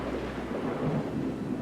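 Thunder rumbles in a low, rolling swell during a lightning storm on a Kentucky road, with a faint hiss of rain underneath.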